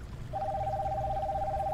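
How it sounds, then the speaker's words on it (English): A phone beside a pool gives off a steady electronic tone that starts after a brief pause and holds evenly over a low background hum. "Beside the pool, a phone buzzed."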